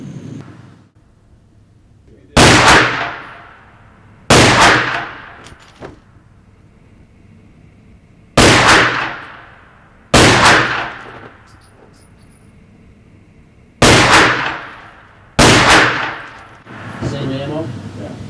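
A Walther pistol fires six loud, sharp shots at a shooting range, irregularly spaced, each crack followed by a short ringing decay.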